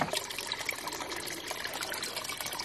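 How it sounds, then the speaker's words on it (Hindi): Mountain spring water in the hills of Uttarakhand runs steadily into a bottle, a continuous bright trickle and splash held close and moderately loud with no voices. "ये पहले बॉटल में पानी भरे उसके बाद कैन में"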